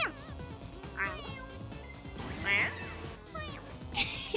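A cat-like meowing voice, several drawn-out mews rising and falling in pitch, heard fairly close over a game's background music, ending in a louder squeal; likely a person imitating a cat.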